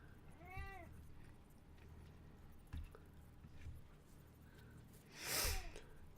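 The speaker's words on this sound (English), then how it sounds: "Meow. What do you want, Marina Kitty?" A house cat meows twice, a short rising call near the start and a louder, bright meow near the end, with faint room noise between and a soft thump partway through.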